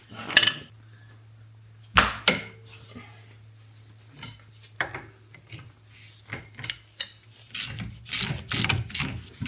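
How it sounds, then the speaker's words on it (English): A breaker bar works on an axle bolt of a Jeep Liberty, giving sharp metallic clanks and ratcheting clicks in irregular bursts over a low steady hum, with a louder cluster of knocks toward the end. "So I'm going to use a breaker bar. I'm just going to break it here."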